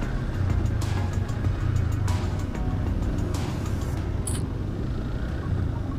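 Trucks move through congested street traffic in Caloocan with a constant low engine rumble and road noise close by, steady throughout with a brief higher tone near the end.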